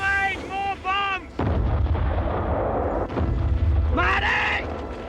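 Bombs and artillery burst in a World War One battle scene, two deep heavy booms close by with rumbling debris, mixed with shouting voices and a high wailing cry.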